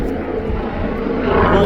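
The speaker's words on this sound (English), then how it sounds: "Yeah, helicopter." A helicopter drones overhead in a dense, steady low rumble with broadband rotor and engine noise, loud and close, with a voice speaking briefly underneath.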